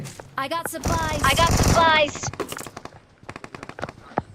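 Rapid bursts of automatic gunfire in a video game crackle in quick succession, loud and close, with short pauses between volleys and a dense stretch of shooting early on.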